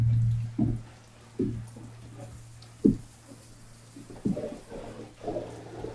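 Water from a fire hose drips and splashes in a burning attic during firefighter training, with a handful of separate close drops and spatters over several seconds against a low steady hum.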